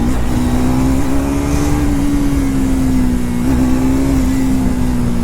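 A Triumph Speed 400 motorcycle engine revs loudly and close, holding a steady droning tone with slight rises in pitch, continuous throughout and with no speech over it.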